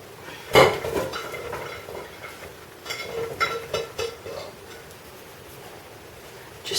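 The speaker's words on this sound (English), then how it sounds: "get all your vegetables into a pan" Chopped vegetables for tomato ketchup, including onions, celery, garlic, ginger and chili pepper, tipped into a pan: a sharp clatter followed by a string of lighter knocks and rattles, close by, with no talk.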